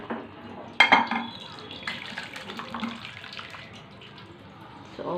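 Water poured into a cooking pot of raw brinjal pachi pulusu with jaggery, a close splashing gush that starts abruptly, then settles into a softer trickling flow that fades out.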